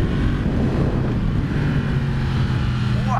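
Yamaha MT-10 Crossplane sport motorcycle, a 2016 model, being ridden hard with a steady, loud engine drone and wind rush throughout, heard continuously from the rider's position.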